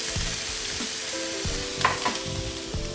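Vegetables and garlic sizzle and fry in a hot pan, with a steady crackling hiss broken by several soft stirring scrapes and clatters, close and fairly loud with no talking.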